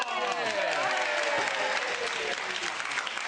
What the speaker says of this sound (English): Give them a round of Fantastic. applause.